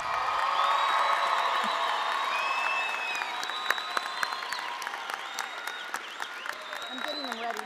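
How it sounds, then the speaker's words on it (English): A crowd at a community college graduation in a performing arts center applauds, with whoops and cheers and whistle-like calls rising over the steady clapping that slowly thins out. "Can we give all the graduates a round of applause?"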